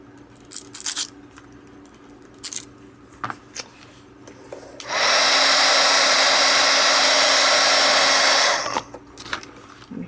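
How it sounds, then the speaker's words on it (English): A heat tool blows steadily for about four seconds, a loud even hiss as it warms and melts wax on a stained glass hummingbird die, preceded by quiet crafting clicks and taps. "I'm heating it up to melt the wax."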